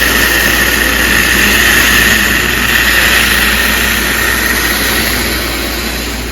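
Penske-themed model train locomotive running with heavy wheel slip on the track, a steady whirring motor drone with a high whine, continuous and close throughout.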